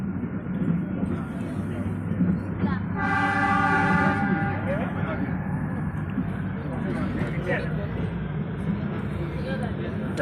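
A toy train near Shimla runs with steady close rumble and clatter, a long horn toot sounding for about a second partway through, while people talk over the continuous rolling noise.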